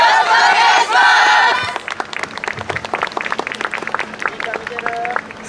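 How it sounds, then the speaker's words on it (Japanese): Crowd at a dance festival performance venue, loud shouting and cheering voices at first, then breaking into scattered, rhythmic clapping with occasional calls under a lighter crowd murmur. "どうぞ皆様ご声援のほどよろしくお願いします。"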